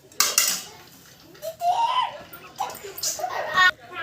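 A spoon stirs rava kichadi in a pan, giving irregular scraping and clinking strokes at close range, with brief high voices mixed in.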